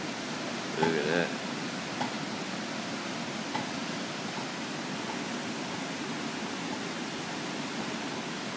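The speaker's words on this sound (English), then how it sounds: "Oh, the waterfall, huh?" A constant rushing roar of a waterfall in Lynn Canyon, Vancouver, fills the scene evenly, with a brief faint voice near the start.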